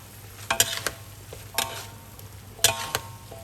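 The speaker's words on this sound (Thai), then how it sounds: "เราก็จะใส่เส้นลงไปเลยค่ะ คลุกให้เข้ากันค่ะ" Cooked yellow egg noodles tossed and stir-fried in a pan: a soft sizzle underneath a handful of quick, close clinks and scrapes of the utensil against the pan, with no talking.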